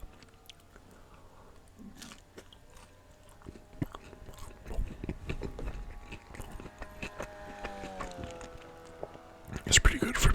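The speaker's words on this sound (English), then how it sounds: "Some of the crunch from the crust." Close, intimate chewing of crunchy Domino's pizza crust, with irregular bites and mouth sounds that grow louder toward the end, mixed with quiet whispered talk.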